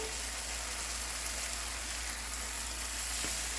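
Eggnog French toast fries in a buttered skillet with a steady, even sizzle and faint crackling, close and constant with no talking.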